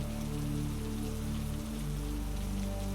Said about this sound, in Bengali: আমি একাই পথ দিয়ে বৃষ্টির মধ্যে হাঁটাহাঁটি করছি